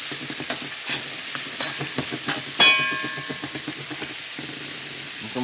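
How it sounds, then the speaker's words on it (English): Chicken and stew ingredients for a Caribbean-style stew chicken fry in a pot, with steady close sizzling broken by repeated scraping stirs and clanks of the spoon against the pot. "And we're gonna fry this off."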